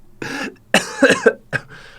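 A few close coughs during Fortnite gameplay, three separate bursts over about two seconds, the middle one harsher and longer with a throaty edge.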